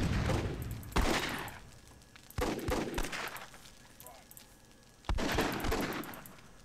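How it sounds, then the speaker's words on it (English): Grenade explosions and gunfire in the Myth II World War II mod: three sharp, heavy blasts with dense crackling bursts and rumbling decay between them, fairly close. "Uh-oh, grenades."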